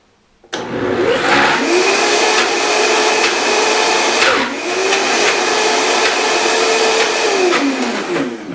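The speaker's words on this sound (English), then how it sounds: "make sure your Vitamix is on low. When you flip it on, flip it to high" A Vitamix blender roars at high speed, a loud, steady motor whine that starts suddenly after a brief quiet moment, with a slight dip midway as the load shifts, running on without pause.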